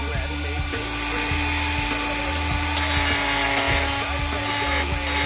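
A grinder works over a boat's nonskid deck surface during a repair, giving a steady, loud, continuous abrasive rasp with a constant motor hum, close up, with a voice speaking over it.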